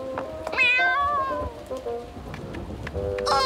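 A cat meows in a few drawn-out, wavering cries over a patter of rain, fairly close and moderately loud, with a final higher meow at the end.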